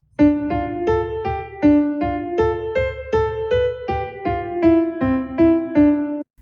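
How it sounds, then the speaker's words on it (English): Roughly a dozen short, detached instrument notes sound staccato in a brisk, even rhythm, each clipped off quickly, close and fairly loud with no voices. "a staccato playing sounds like this."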